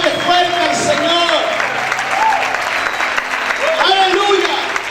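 A church congregation applauds during a Spanish-language worship service, steady clapping running throughout while a preacher's amplified voice and music carry over it.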